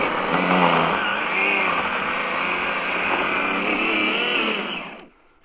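An Einhell 18V Power X-Change cordless chainsaw cuts through holm oak, a steady high-pitched electric motor whine with slight wavering under load, close and loud, then stopping abruptly near the end.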